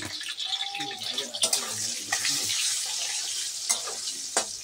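Potatoes fry in a pan with salt and turmeric, giving a steady, moderately quiet sizzle with occasional stirring scrapes and clinks.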